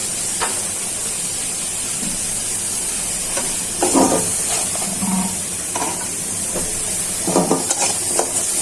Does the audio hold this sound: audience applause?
no